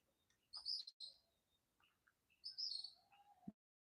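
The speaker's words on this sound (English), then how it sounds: "the song of the cocks crowing, the birds chirping" Birds chirp in a few bright, high bursts with short pauses between, faint and distant in an otherwise quiet backyard.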